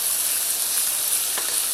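Frozen rice and vegetables frying in a pan with butter, a steady hissing sizzle with a brief crackle partway through, close and alone with no talking.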